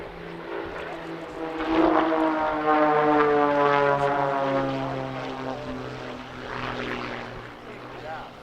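Propeller aircraft flying a mirror formation half roll with the leader inverted at an airshow, a steady droning engine tone that swells and fades as the formation passes at moderate distance.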